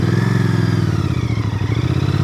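A Royal Enfield 650 Bear motorcycle pulls away, its parallel-twin engine giving a loud, close, throbbing rumble that rises steadily as it accelerates.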